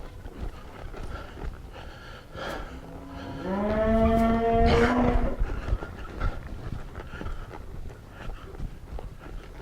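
A cow moos loudly during horse training with cattle, one long drawn-out call rising and then fading, over steady outdoor background noise.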